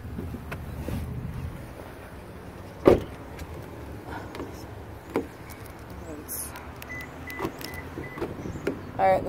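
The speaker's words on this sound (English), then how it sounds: "Sliding rear window, it's power." Power sliding rear window on a 2014 Toyota Tundra SR crew cab, a soft steady motor whir inside the cab with a few sharp clicks and thumps, fairly quiet against faint background wind.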